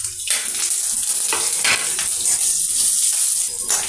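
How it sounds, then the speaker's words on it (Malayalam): Mustard seeds, dried red chillies and curry leaves frying in hot oil for dhokla seasoning, a loud, steady, crackling sizzle close up, with no one speaking. "ആവശ്യത്തിന് എണ്ണ ഒഴിച്ച് കടുക് ഇടാം."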